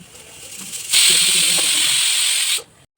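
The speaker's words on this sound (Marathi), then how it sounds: "इकडे कुकरला प्रेशर येत असून" A loud, steady jet of hissing steam bursts out suddenly, holds for under two seconds, then cuts off abruptly.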